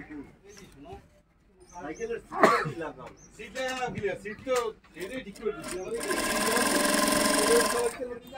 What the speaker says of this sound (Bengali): খুব সুন্দর করে কিন্তু আর কি সেলাই করা হচ্ছে এখানে।